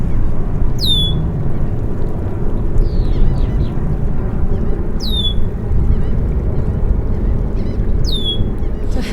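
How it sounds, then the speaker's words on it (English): A small bird at Dead Horse Bay in New York repeats a short, high, clear call about every four seconds. The calls stand out faintly above a steady low rumble of wind or surf. "It's a happy little bird searching around, singing his song."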